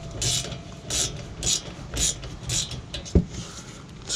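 A ratchet clicks in regular bursts about twice a second while unscrewing a bolt during brake pad replacement on a Honda Civic Type R, close and crisp, followed by a single metallic clunk.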